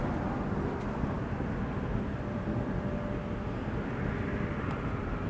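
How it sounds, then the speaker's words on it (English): Embraer 195 E2 airliner lining up on the runway at Toronto airport in freezing weather, a steady distant jet engine rumble and hiss heard from afar, with no talk. "Now Porter 125 lining up to Montreal."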